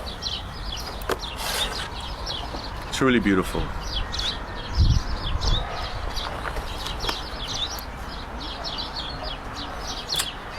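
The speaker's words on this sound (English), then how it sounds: "Another wood warbler." Wood warbler singing outdoors during spring migration, its high trilling phrases repeating through the clip over steady background birdsong, with someone talking briefly partway through.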